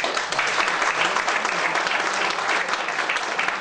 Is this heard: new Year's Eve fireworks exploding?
no